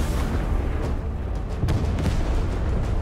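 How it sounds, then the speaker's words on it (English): A tank firing and blasting in the Fortnite zero build video game, heavy booming shots and rumbling explosions in a dense, loud low-end mix, with a few sharper bursts cutting through. "That tank, whoever's in it, is blasting away fools right now."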